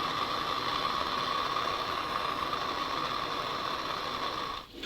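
A ratchet wrench loosens a bolt on a tow truck under construction, giving a steady, continuous mechanical whir with a fine clicking texture throughout, close and moderately loud, ending in a brief dip and a sharp knock.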